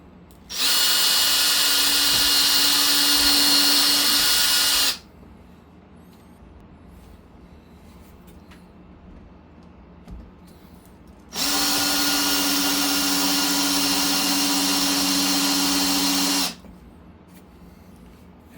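Power drill driving screws into the benchwork fascia of a model railroad layout whines in two long, steady bursts of about four to five seconds each, loud and close, separated by a quiet pause with faint handling noises.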